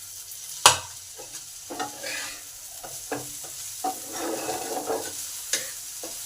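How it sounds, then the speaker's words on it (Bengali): Long beans sizzling in a pan with onion and carrot, with a steady close frying hiss broken by repeated clattering stirs of a spatula, one sharp knock near the start. "এটাকে 2 মিনিট ধরে ভেজে নেব পেঁয়াজ আর গাজরের সাথে।"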